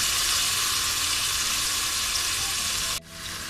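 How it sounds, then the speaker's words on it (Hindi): Mutton sizzling in a pan over high heat for a Kashmiri rogan josh, a loud, steady frying hiss that runs unbroken for about three seconds, then drops off abruptly near the end. "और हम इसे तेज आंच पे पकाएंगे और इसका कलर चेंज करेंगे"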